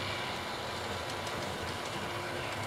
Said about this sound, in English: And let's just keep following that train around.